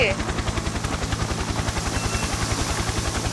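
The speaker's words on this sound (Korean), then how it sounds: "헬기 왔어 헬기." In the video game Survival Frenzy, a helicopter arrives with a loud, rapid rhythmic rotor chop that pulses steadily and close, with a brief voice at the very start.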